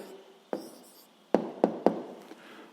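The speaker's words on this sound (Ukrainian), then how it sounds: "Ну що ж, записуємо відповідь." A pen writes down the answer to a sixth-grade maths exercise in a few quiet, close scratching strokes with several sharp taps of the pen on paper, in an otherwise silent room.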